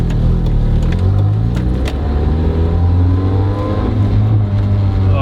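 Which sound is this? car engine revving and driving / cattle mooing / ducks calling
car engine revving and driving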